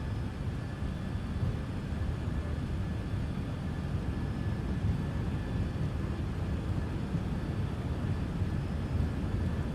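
Airliner jet engines at takeoff thrust in a flight simulator, a steady, loud, even roar with a faint high whine on top, continuous throughout with no talk.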